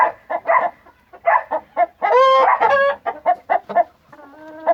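An Aseel rooster clucks in short repeated bursts, with a louder drawn-out call in the middle, close by and alone.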